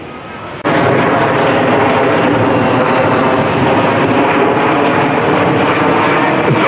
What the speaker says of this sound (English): It's always disconcerting when a giant aeroplane goes overhead.